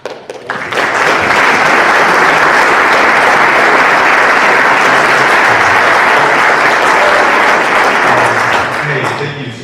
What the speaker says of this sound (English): Hey, thank you so much for the applause